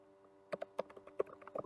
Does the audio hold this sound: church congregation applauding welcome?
no